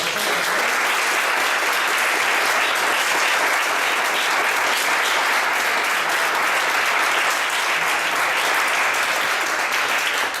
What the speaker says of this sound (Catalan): jo crec que ens mereix un aplaudiment molt gran